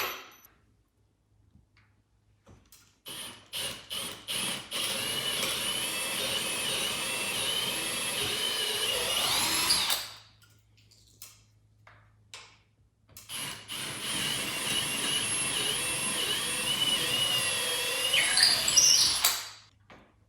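Two long runs of a power drill boring pilot holes into wood for 4-inch lag screws, whining and grinding with rising strain, separated by a few seconds of near silence.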